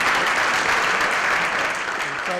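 Loud, sustained applause from a mushaira audience in Bahrain welcoming the poet Ahmed Adil, a thick wash of many hands clapping close and continuous without a break.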